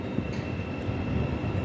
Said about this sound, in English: we've got a Thames Link Class 700 going into Gasworks Tunnel